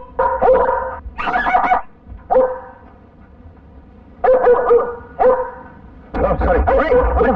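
A dog barks and yips in loud, close bursts, pausing between volleys, with some whimpering in the gaps.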